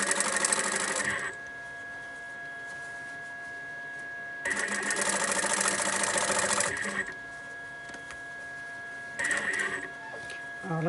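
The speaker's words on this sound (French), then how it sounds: "Donc alors on y va avec un petit point droit. Et puis vous allez, bah écoutez, coudre tout le contour." A sewing machine runs a straight stitch around the outline of a fabric rag doll in three distinct bursts of steady mechanical whirring, separated by pauses.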